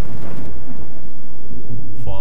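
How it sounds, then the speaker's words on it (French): Loud, close thunder rumbles steadily over rain, a sound effect for a haunted-town story, and a brief voice-like sound comes in right at the end. "Il pleuvait à l'extérieur. Il y avait du tonnerre."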